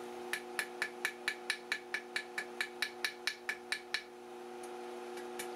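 A nail being hammered on an anvil while forging a drive hook heated by induction: about eighteen sharp, ringing metallic strikes in a fast, even rhythm, then a pause and a few lighter taps, close and clear.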